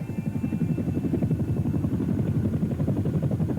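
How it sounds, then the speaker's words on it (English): A Chinook helicopter landing at Burke during an emergency airlift, its rotor thumping in a steady, rapid beat, moderately loud and alone without talk. "a Chinook helicopter lands in Burke for an emergency airlift"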